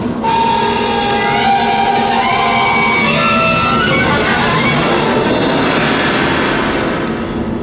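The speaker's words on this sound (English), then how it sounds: "there's an airplane coming, so hopefully you'll be able to hear it" An airplane passes overhead with a steady, loud engine roar and a broad rushing drone that holds throughout, sounding fairly close.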